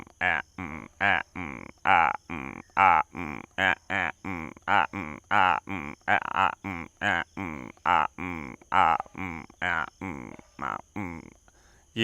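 A person rhythmically imitates frog croaks, a long run of short, evenly spaced voiced bursts repeated about twice per second.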